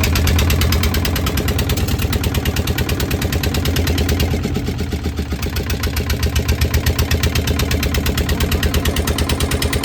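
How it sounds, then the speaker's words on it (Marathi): A boat's engine running near Gokarna, a loud, steady rhythmic chugging thump close by, holding an even pace for the whole stretch with no voices. "हे बघा, ही आपली बोट आहे."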